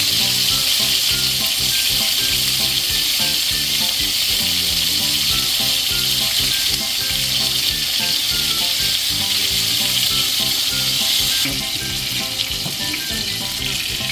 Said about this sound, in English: like everything else you put in the fry pan to get reaction, you put it in and you don't touch it